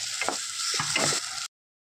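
A yogurt-based masala sizzles hard in a pan as a little water goes in, a loud hissing fry with a few bursts of bubbling and spatter for about a second and a half before it cuts off.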